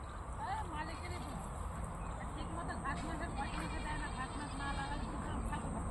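Goats grazing in a field bleat in wavering calls under ongoing conversation nearby, with steady outdoor background noise.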